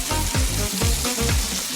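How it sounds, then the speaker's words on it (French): Breaded food sizzles and crackles steadily in hot frying oil, a dense close-up fry sound with rhythmic stirring or scraping pulses and no voices. "Parfait pour la friture."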